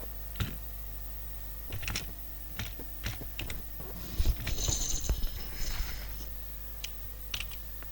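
Keys on a computer keyboard click in scattered, light taps as a lesson topic is entered, quiet and close over a faint steady hum, with a brief cluster of faster keystrokes in the middle.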